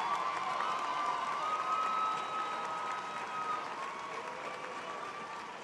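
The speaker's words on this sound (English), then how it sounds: "Let's give them a round of applause." Sustained audience applause for honor graduates at a 2011 nursing graduation ceremony, a dense steady wash of clapping from a large crowd that stays loud throughout before easing slightly near the end.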